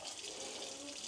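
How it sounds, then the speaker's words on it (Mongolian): Water pouring from a tap into a pot for cooking stew, a short steady rushing gush, faint and close, with no talk over it. "Одоо сайхан ус хийж чад."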